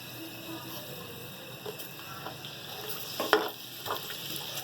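About a quarter kilo of onions sizzling in two spoons of oil for palak keema, a soft, even frying hiss close by, with a few stirring clinks and taps near the end.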